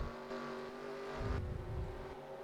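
Stock cars race around Bristol in the video game NASCAR Racing 2003, engines droning and revving in a steady howl with a lower roar surging partway through, moderately quiet and without voices.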